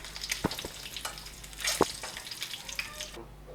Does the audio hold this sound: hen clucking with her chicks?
no